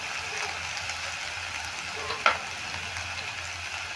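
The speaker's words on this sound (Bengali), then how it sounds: "এবার মশলাটাকে খুব ভালো করে কষিয়ে নিচ্ছি।" Ground spices such as cumin, coriander and turmeric fry in a pan with salt, giving a steady soft sizzle with one faint clink of stirring, and no talk.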